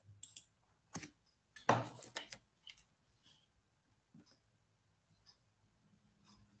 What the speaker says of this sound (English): Coach Andrè is busy typing that in right now